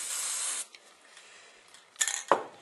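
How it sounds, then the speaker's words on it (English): An aerosol can sprays orange paint in a steady hiss lasting about half a second, followed by quiet handling noises and a second short burst near the end. "So I'm just spray painting some orange"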